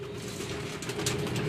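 Soft cooing of pigeons at a pigeon club loft, a low steady murmur of several birds at moderate distance, continuous over the short stretch with no talking.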